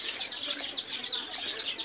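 Chickens clucking in a flooded farmyard, a steady chorus of soft, busy clucks and chatter close by, fairly quiet and without talk.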